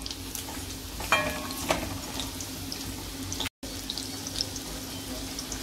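Pieces of chicken 65 fry in hot oil over medium heat, a soft, continuous sizzle with a few sharper clinks and scrapes as they are stirred, fairly quiet with a brief dropout near the end.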